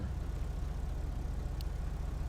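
Steady low engine idle from a car in GTA 5 role play, a quiet, even hum with a faint pulsing rumble, heard alone without talk.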